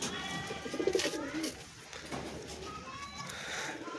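A female Madras pigeon coos in soft, low repeated calls close by, a louder burst early on and quieter coos later, with faint background noise and no talk.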